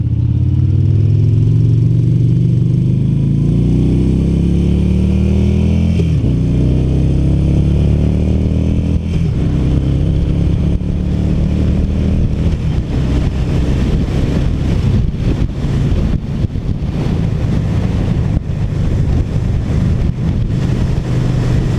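A 2017 Yamaha V Star Bolt R-Spec motorcycle engine hums steadily at cruising speed, with smooth shifts in pitch and constant wind rush, loud and close throughout.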